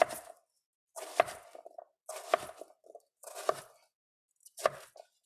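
Knife chopping microwave-softened potatoes on a cutting board, five distinct close thuds spaced about a second apart, each a crisp cut and knock against the board, with quiet between strokes.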